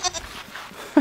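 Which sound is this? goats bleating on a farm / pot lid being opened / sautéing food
goats bleating on a farm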